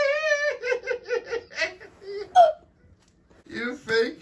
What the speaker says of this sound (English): I still got the hiccups.